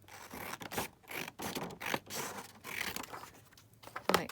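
Scissors cutting through a sheet of paper for a junk journal flap, a series of close, crisp snipping and rasping strokes with short pauses between cuts.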